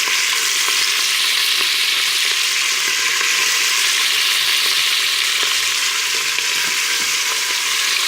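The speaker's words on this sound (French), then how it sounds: "Une fois qu'on les pose dans l'huile chaude et le beurre, on ne les touche plus pendant au moins 1 minute" Beef pieces sear in hot oil and butter for a beef and carrot red wine stew, giving a loud, steady, dense sizzle that holds evenly throughout, close up and with no talking.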